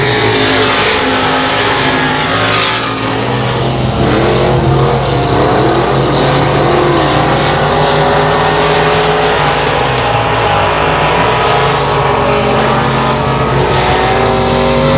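Race cars roar around the 281 Speedway track in a dense, continuous engine drone, loud and close, with pitch rising and falling as cars pass.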